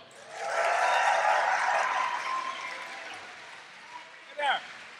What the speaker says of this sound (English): Can we give a warm, actually a rapturous round of applause for Phil LaMarr?